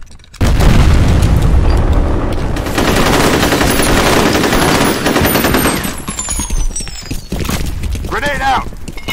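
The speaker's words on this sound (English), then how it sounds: "Grenade out!" Grenade blast in F.E.A.R. Combat, a loud, booming explosion opening into sustained rapid gunfire that tapers off, with a voice shouting over the noise.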